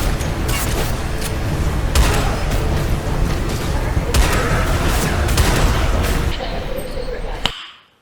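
Powerful pistol fire in SiN Episodes: Emergence, several sharp, loud shots cracking at uneven intervals over dense game noise and combat clatter, before the sound cuts off abruptly near the end.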